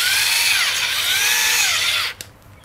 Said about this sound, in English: I'll place it over a hole here so I can drill straight through